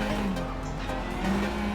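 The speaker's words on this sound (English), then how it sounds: "You'll hear the wheel spin where there's so much power through this section" Rally car wheelspin in WRC Generations: a high-revving engine roars steadily with tyres squealing under heavy power, continuous and close throughout the short burst.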